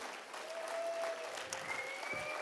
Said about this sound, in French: Un vrai applaudissement pour Jésus